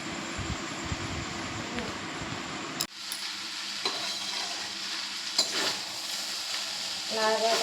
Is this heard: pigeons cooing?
no